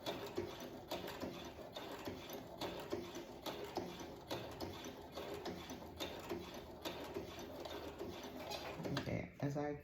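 Brother sewing machine stitching fabric for a McCall L9501 pattern, a fast, steady mechanical whirring and ticking that runs continuously at close range, then changes near the end as the stitching stops.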